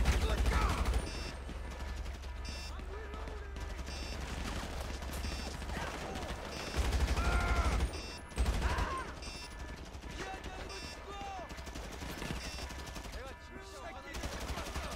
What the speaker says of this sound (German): Dieser Moment, wenn der Typ seinen eigenen Typen erschießt